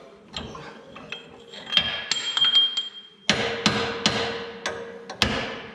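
Repeated sharp hammer blows on metal while squaring up a Jeep TJ ball joint, irregularly spaced, some with a ringing tone, close and fairly loud.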